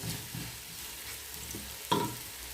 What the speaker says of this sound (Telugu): ఈ ఉల్లిపాయల్ని మంచి బ్రౌన్ కలర్ వచ్చేంత వరకు వేయించుకోవాలి